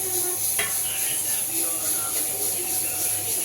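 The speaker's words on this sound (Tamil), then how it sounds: "எண்ணெய் பார்த்திங்கன்னா நல்லா கொதிக்க ஆரம்பிச்சிருச்சு" Oil heats to a boil, sizzling and crackling steadily in a pan for frying potatoes, with a brief clink of cookware near the start and a faint voice in the background.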